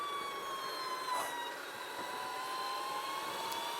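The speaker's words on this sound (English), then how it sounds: "The motor does sound a little quieter." A 2023 Energica Experia electric motorcycle's motor gives a steady high whine while riding, a sustained tone that slowly shifts in pitch over constant road and wind noise.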